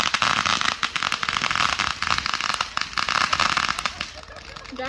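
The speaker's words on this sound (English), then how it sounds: "There's so many fireworks." Fireworks burst and crackle repeatedly during a fireworks weekend, sharp pops and sputtering bursts in quick irregular succession while people talk and exclaim nearby.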